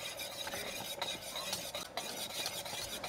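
A spoon stirs a boiling no-bake cookie mixture in a pot, producing a steady scraping, rasping sound with soft rhythmic strokes over a faint bubbling sizzle, close and continuous with no voices.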